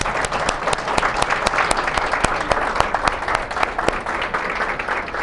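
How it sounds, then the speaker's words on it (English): An audience at a university presentation bursts into sustained applause, dense overlapping clapping from a crowd that stays steady and loud for the whole stretch. "Let's give her a round of applause."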